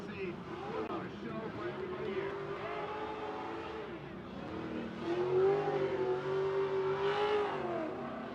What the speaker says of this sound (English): LZ throws it in, e-brake drag, big angle towards the BC Racing barriers, doing a good job of keeping that car on angle throughout that zone